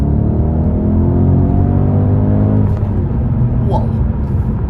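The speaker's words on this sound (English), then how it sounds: "here goes another hard acceleration from 60 miles an hour" A BMW M850i accelerates hard from 60 mph, its engine roaring loud and steady as the pitch climbs, then eases into a lower rumble, with a brief voice heard near the end.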